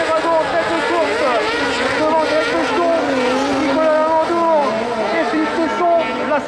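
Kart cross race cars at a Guénin dirt track race in 2023 roar past, with several high-revving engines whining and shifting continuously. A commentator talks over the loud, close engine noise.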